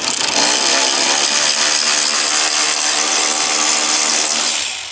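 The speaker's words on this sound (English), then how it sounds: "three-eighths ratchet is awesome." Power ratchet in three-eighths size driving fasteners while a heavy-duty rear bumper and hitch goes onto a Ski-Doo snowmobile, giving a loud, steady motor whine for several seconds that tapers off at the end.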